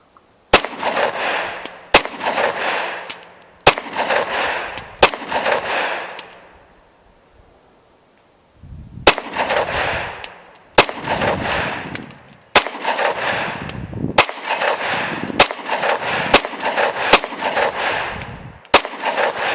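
A Glock 43x pistol shooting 124 grain Blazer brass rounds with an S15 magazine, sharp loud shots at irregular intervals, several in quick succession, with a short pause midway.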